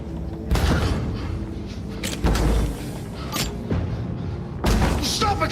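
Android smashing itself in the video game Detroit Become Human, three heavy thuds and crashes spaced about two seconds apart, loud and close, with tense voices speaking between them.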